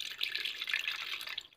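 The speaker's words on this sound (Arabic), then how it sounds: "وهضيف بقى عليها دلوقتي مقدار ربع كوبايه من ماء الورد" Rose water poured into a blender over grated lemon zest makes a steady, light splashing trickle of liquid that lasts about a second and a half, close and fairly soft, with no talking.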